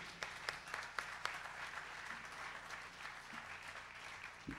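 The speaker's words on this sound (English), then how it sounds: "A round of applause for them" An audience at an outdoor summer concert on a green claps for the volunteer sound and lights crew, a soft, steady patter of applause heard from a distance with a few sharper individual claps standing out.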